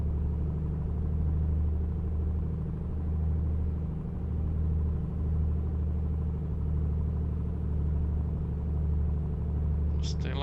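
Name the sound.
light aircraft piston engine during run-up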